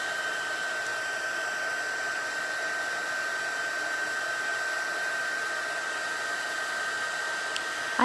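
Heat gun blowing hot air for heat embossing on a craft project, a steady close whirring blower with a constant high whine, running unbroken throughout.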